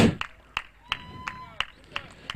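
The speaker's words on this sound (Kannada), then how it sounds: "ಟ್ರೋಫಿ ಎತ್ತಲಿ ತನಕ ಚಪ್ಪಾಳೆ ನಿಲ್ಲೇಬಾರ್ದು" Applause at a cricket trophy presentation ceremony, a run of sharp claps spaced roughly a third of a second apart, fairly close, with a soft background murmur.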